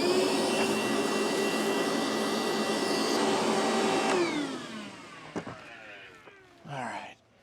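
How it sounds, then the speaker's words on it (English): A vacuum cleaner roars loud and close at a steady high whine for about four seconds, then winds down with a falling pitch, and a few clunks and a brief rustle follow. "This is where I like to use the vacuum."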